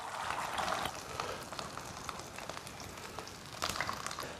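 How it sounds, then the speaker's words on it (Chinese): Sweet potato starch sheets fry over low heat in a small pan, giving a steady dense sizzle and crackle throughout, a little louder at the start and near the end. "豆腐根煎好过后，就要来煎这个苕皮了。"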